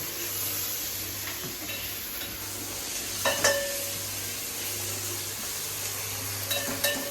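Food frying and sizzling in a pan while being stirred for a Sindhi recipe, a steady close hiss with occasional scrapes and clinks of a utensil against the pot, with no talking.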